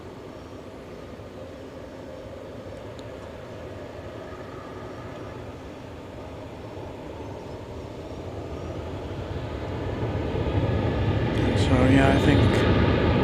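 A jet airliner departing a runway at DFW Airport, a steady distant engine roar that swells louder toward the end, with a voice talking briefly over it.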